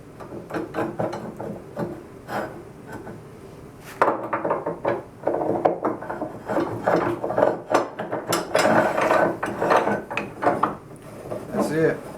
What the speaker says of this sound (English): When you crank it, the thing rolls over and the threads catch, and when you uncrank it frees up.